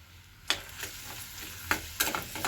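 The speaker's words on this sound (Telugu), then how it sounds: "ఇప్పుడు ఆనియన్స్ వేపుకుందాం మనం" Two medium onions fry in a pan, with a quiet steady sizzle and a few sharp scrapes and clacks as they are stirred, close and fairly faint.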